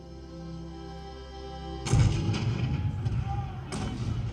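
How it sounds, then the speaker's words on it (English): A staged cannon blast representing the opening fire on Fort Sumter in April 1861, in a Disneyland Civil War show: a sudden loud boom cuts through quiet music, followed by rumbling and a second thud. "the cannon spoke for war"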